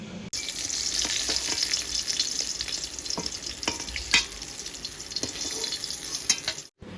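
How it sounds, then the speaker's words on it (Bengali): Katla fish pieces frying in oil in a wok produce a steady, close, hissing sizzle with scattered crisp pops and occasional scraping clicks, fairly loud and unbroken until a brief cut near the end. "বাটনা করতে করতে মাছটাও আমার ভাজা হয়ে গেছে"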